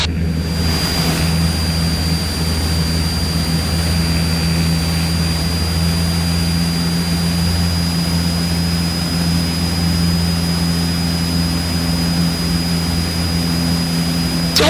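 Inside a Cessna 172 climbing after takeoff, the propeller engine drones steadily and loudly with a constant low hum and fixed whining tones, unbroken across the whole stretch with no talk over it.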